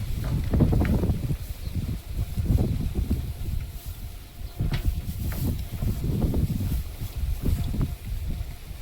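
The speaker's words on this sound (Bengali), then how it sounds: "ভালো হাওয়া হচ্ছে, এরকম ঝড় হচ্ছে" Strong, gusty storm wind outdoors by a vegetable garden, buffeting the microphone in repeated loud low rumbling bursts throughout, with no talking.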